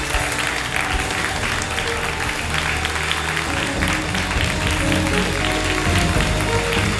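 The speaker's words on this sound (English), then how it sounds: "Take 30 seconds, clap your hands and love Jesus." Sustained applause and hand clapping from a church congregation in worship, a dense, continuous crowd sound lasting several seconds with a faint murmur of voices mixed in.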